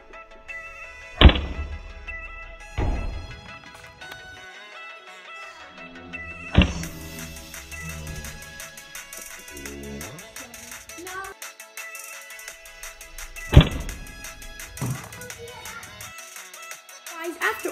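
A small Nerf Fire Strike toy blaster fires in sharp, loud thunks, about four shots spaced several seconds apart, with rattling and clicks between them indoors.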